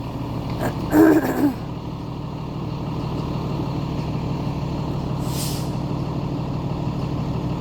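School bus pulling up with a short hiss of air brakes near the start, then a steady low engine rumble as it idles, with a brief higher hiss later.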